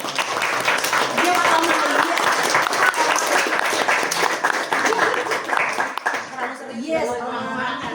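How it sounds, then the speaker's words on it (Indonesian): Sustained audience applause at an Indonesian cultural gathering of a shamans' association, dense clapping filling the room for several seconds with voices and talk mixed in, thinning out toward the end. "Oke, tepuk tangan dong."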